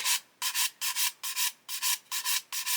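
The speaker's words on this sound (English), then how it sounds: "Then we can come in with our coarse stick" A coarse sanding stick rubs across a plastic 1/72 Airfix Lancaster model kit part in eight quick, even back-and-forth strokes, close, dry and scratchy with short pauses between.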